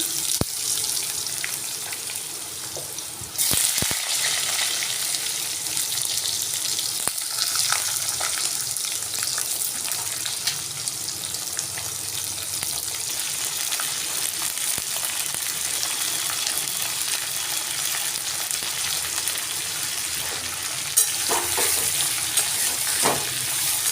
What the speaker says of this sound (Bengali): কম তেলের মধ্যে আমি সবজিগুলো দিয়ে দিচ্ছি